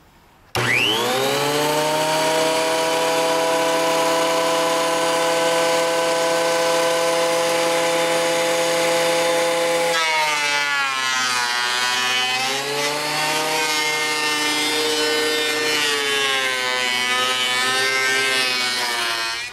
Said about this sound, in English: we ran this wood through the planer, got it all to the same thickness